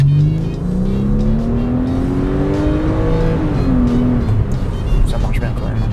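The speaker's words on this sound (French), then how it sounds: "dans une voiture qui fait beaucoup de bruit" Subaru Legacy engine revving hard while on the move, a loud, steady interior drone rising in pitch through the gears with a shift near the end, and people talking faintly underneath.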